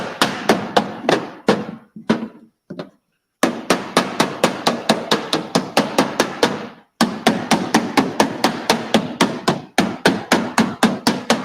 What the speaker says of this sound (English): Just take my hammer here